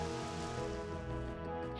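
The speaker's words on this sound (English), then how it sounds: "There is a sudden downpour." Steady synthetic rain downpour in the video game Pokemon Stadium 2, a continuous wash of hiss under layered game music that holds at an even level throughout.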